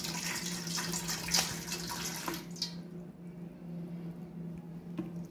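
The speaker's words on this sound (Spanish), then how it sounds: "Y le voy a vaciar otra mitad de la otra botellita." Water pours steadily from a one-liter plastic bottle into a cooking pot, a continuous rushing splash that stops abruptly partway through, leaving a low background hum.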